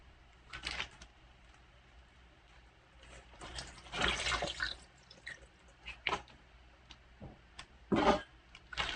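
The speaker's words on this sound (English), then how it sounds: "now you're just gonna pour this into your Ziploc bag with the pork tenderloins in it" Marinade poured into a Ziploc bag holding pork tenderloins, heard as soft, close, irregular splashes, drips and squishy liquid sounds with brief louder glugs, no talking.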